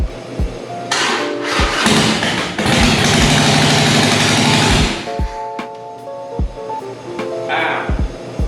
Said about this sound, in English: you know that this guy has got a pretty bad exhaust leak